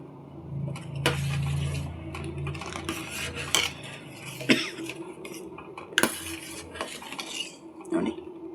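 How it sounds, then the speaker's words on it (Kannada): A spoon scrapes and clinks against a pot while ghee-fried ingredients are stirred into milk, giving irregular metallic knocks and scrapes over a low simmering hiss, with a brief cough-like sound early on. "ಈ ರೀತಿ ಮಿಶ್ರಣ ಮಾಡೋಣ."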